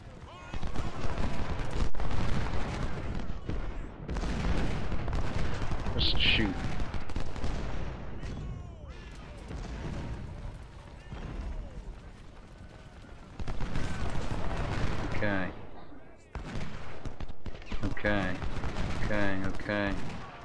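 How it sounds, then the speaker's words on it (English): Musket volleys and artillery fire crackle and boom in Ultimate General: Civil War, dense fusillades rolling on and off across the battlefield with someone talking and shouting orders over the gunfire. "Keep firing, assholes."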